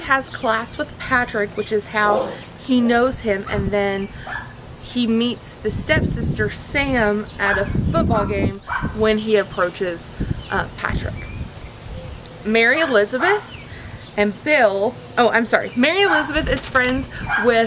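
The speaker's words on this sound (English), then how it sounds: "I'm sorry about the dogs. I can't make them shut up. They're the neighbors." Neighbors' dogs bark and yip repeatedly in bursts throughout, fairly close and loud, overlapping with a person talking.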